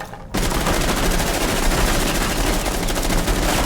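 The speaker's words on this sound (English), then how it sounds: "they are going to shoot at us, but as you'll see, you can let them shoot you as much as you want and you won't die." Training dummies firing in Rainbow Six Siege, a loud, close, unbroken stream of rapid automatic gunfire that starts abruptly after a brief quiet moment.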